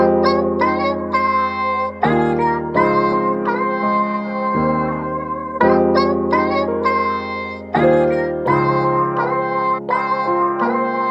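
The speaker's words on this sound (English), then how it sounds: "Putting that on top of the piano sounds like this." Piano chords repeat in a steady pattern with a sampled vocal layered over them, bright and close, with no talking.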